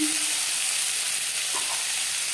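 Peas and thinly sliced beans sizzle steadily in a hot pan alongside potato and cauliflower as they are stirred for a leftover-rice dish, a constant close frying hiss with no voices.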